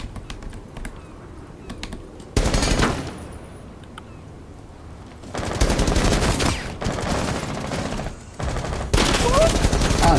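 Rapid automatic gunfire sprays through a barricade in a first-person shooter, coming in several loud sustained bursts separated by quieter gaps with faint clicks, close and dominant.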